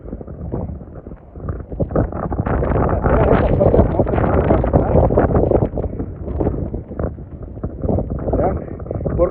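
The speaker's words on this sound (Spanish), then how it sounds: "Vean los árboles limpitos porque el viento está fuertísimo." Strong wind blows through a blizzard in Boston, Massachusetts, making a loud, steady roar with buffeting gusts on the microphone throughout.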